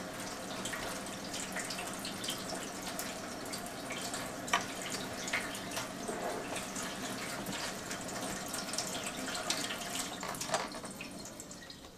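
Enagic SD501 Kangen water ionizer running wide open at full speed, a steady rush of flowing water with a few faint drips and clinks, moderately quiet and continuous throughout.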